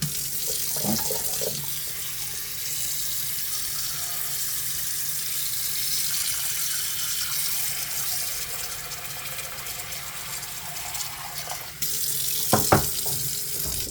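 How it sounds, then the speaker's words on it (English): Steady running water from a tap pours into a cooking pot, filling it about halfway, a continuous broadband rush lasting throughout, with a few clinks and knocks near the end. "I'm gonna fill it up with maybe halfway of water"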